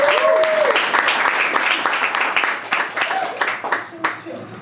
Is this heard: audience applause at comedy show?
yes